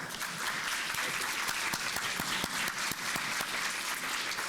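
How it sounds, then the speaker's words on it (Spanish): A seated audience at a talk on Mexico's economic outlook applauds a speaker with steady, sustained clapping, moderately distant and fairly even throughout, with a few sharper claps standing out. "Le damos un fuerte aplauso, por favor."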